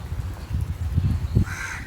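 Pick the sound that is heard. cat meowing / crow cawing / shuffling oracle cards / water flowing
crow cawing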